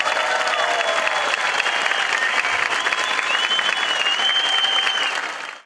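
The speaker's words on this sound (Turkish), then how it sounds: "Konseri izleyenler Antakya Medeniyetler Korosu'nu ayakta alkışladı." A concert audience gives the Antakya Civilizations Choir a standing ovation, dense loud sustained clapping from a large crowd, even and unbroken before fading out at the very end.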